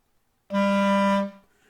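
A single sustained low A from a band wind instrument, steady and clear for under a second before stopping cleanly, played alone.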